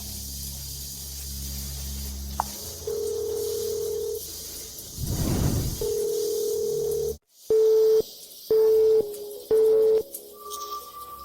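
Phone call rings unanswered: a steady ringback tone in short repeated bursts with gaps between, preceded by a sustained dial-type tone and a whooshing hiss, fairly loud and close with no voices.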